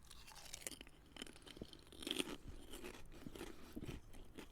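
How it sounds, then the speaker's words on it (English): Skips prawn cocktail flavour crisps being eaten, with close, soft, irregular crunching and chewing heard quietly and alone. "They literally crunch and melt in your mouth at the same time."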